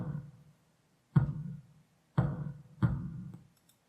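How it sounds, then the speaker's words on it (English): Creature stomps made by thumping a garbage can and low-pass filtered so the attack is softened, heard as three heavy, muffled, boomy thuds at uneven intervals, each with a short dull decay, alone and fairly quiet. "Where I was making creature stomps with a garbage can."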